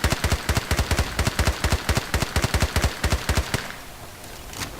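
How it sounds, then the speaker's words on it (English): Tap-fired shots from an MP5 or G53 in Battlefield Play4Free ring out as roughly two dozen loud, evenly spaced single cracks in a rapid steady rhythm, then stop, leaving a quiet tail. "So now we're going to try tap firing"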